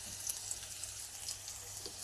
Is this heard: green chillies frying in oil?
yes